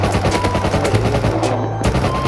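A gun fires in the survival video game Rust, giving a loud, close burst of rapid repeated shots with no pauses and no speech over it.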